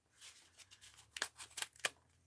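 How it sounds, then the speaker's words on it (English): A paper mail envelope being opened by hand, a series of close, crisp rips and crinkles with a few sharp tearing bursts near the end, quiet between them. "Let's see if I can get this envelope opened here."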